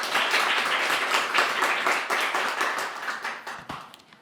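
Audience applause at a student-focused parliamentary forum on youth smoking prevention, greeting a lawmaker's congratulatory speech: dense, steady clapping from a crowd that holds for about four seconds and then thins out.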